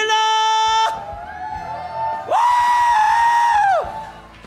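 Congregation at a New Year church revival service lets out loud screams and whoops, a sustained tonal shout breaking off after a second, then a second long swell of crowd yelling rising and fading.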